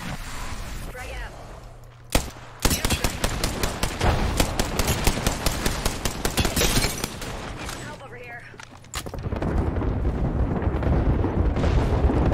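Frag grenade blast and gunfire in the Apex Legends battle royale game: a sharp explosion, then dense rapid bursts of automatic fire over several seconds, loud and close, with a heavy rumbling stretch near the end.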